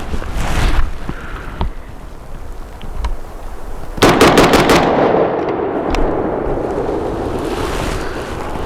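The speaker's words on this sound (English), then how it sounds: "we'll do 5 rounds shown at normal speed, filming at 30 frames a second" An AK rifle fitted with a muzzle device fires five rounds in a quick, loud close burst, each crack ringing into a long outdoor echo, after scattered earlier noises.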